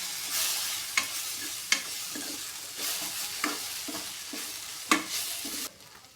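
Cooked fenugreek leaves and flour stirred in a pan for Gujarati methi bhaji, a soft continuous sizzle broken by five or six sharp spoon knocks and scrapes, close-up, ending abruptly in quiet, no talking.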